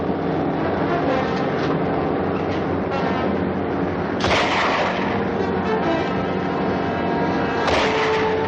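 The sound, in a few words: rifle shot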